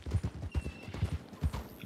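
Hooves of a wild horse clip-clopping in the video game RedM, a steady rhythmic trot of heavy thuds, close and loud with no talk.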